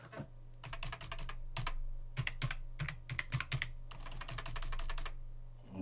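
Steady computer keyboard typing in bursts of rapid clicks with short pauses, close and clear, over a low constant hum and with no talking.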